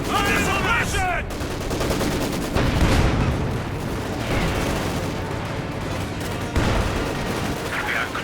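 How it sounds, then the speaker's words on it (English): Dense machine gun bursts and other gunfire crackle through a World War II battle in Company of Heroes 2, with anti-tank field guns booming among them, loud and continuous, while a commentator talks over the fighting. "Machine gun fire suppression!"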